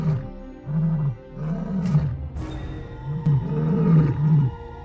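Lions roar in the Okavango, Botswana, a run of deep, throaty calls repeating in a steady rhythm, loud and close with no talk over them.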